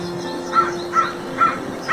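Crows caw four times at an even, steady pace from trees, moderately loud over a constant low hum, with no voices.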